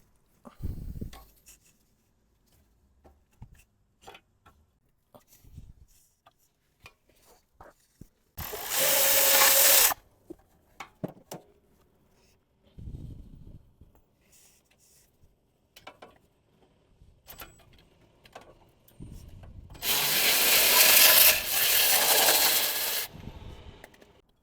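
Rear brake caliper bracket bolts on an AWD Hyundai Kona, 14 mm, come loose in two loud, harsh bursts of power-tool rattling, separated by scattered metallic clinks, taps and handling noises in a quiet garage.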